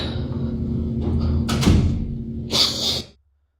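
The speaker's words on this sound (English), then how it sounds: "That was a door." A door in a corridor, heard as a low rumble followed by a sharp knock and a brief scraping clatter before cutting to silence.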